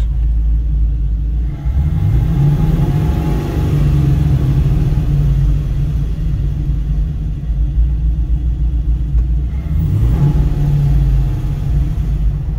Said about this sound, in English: going idling down the gravel road